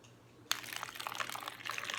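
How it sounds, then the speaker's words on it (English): Vinegar is poured into a water bottle, a close, quiet gurgling pour that starts abruptly after a moment of silence and runs steadily with small bubbling splashes, without any talking. "I'm going to pour a little bit into the water bottle"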